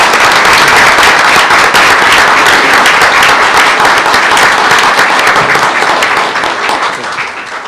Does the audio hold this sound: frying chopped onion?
no